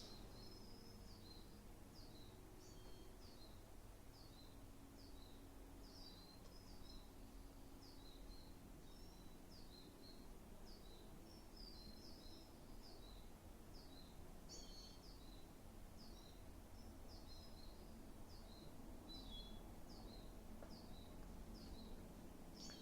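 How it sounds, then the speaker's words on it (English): Faint birds chirp repeatedly in the distance over a low, steady outdoor hum, with short high calls scattered throughout. "I can hear the birds."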